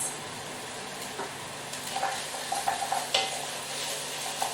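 Grated garlic and herbs are stirred into vegetables for a forgotten vegetable soup, with a soft continuous sizzle and a few light scraping taps of the spoon against the pan, no talking.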